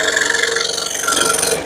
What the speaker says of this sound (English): Scroll saw work, you can do a lot of things with a scroll saw.